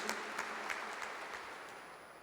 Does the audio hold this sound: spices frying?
no